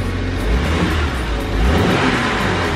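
A BMW 135i engine revs steadily and fairly loudly from close by, holding a continuous rumbling drone with no talk over it.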